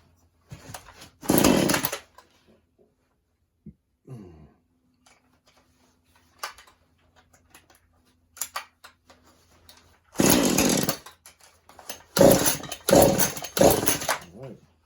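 Husqvarna 435 chainsaw with a newly installed carburetor being pull-started on choke: a few short, loud engine bursts separated by quiet gaps, sputtering and cutting out rather than settling into a steady run.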